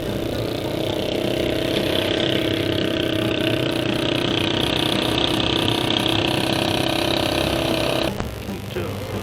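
A car engine labours uphill in first gear on a mountain road toward Babusar Top, a loud steady drone with mechanical whine that drops off abruptly near the end.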